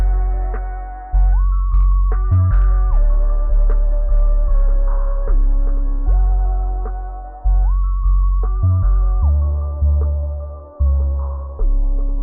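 An FL Studio beat outro plays in two repeating phrases, each a steady synth tone stepping between pitches over heavy low bass and sharp hits. Volume and EQ automation make every phrase swell, then fade away.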